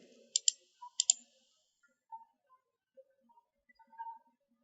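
Several crisp clicks from a computer mouse during spreadsheet row editing, two quick double-click pairs early, then sparse lighter taps, close and quiet with no talking.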